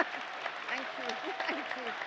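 Audience applause in a hall at a trade union congress: a steady wash of clapping from many hands, with voices murmuring underneath.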